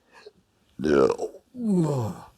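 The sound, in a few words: voice imitating a loud belch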